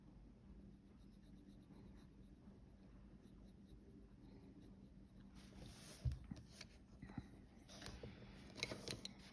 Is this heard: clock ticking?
no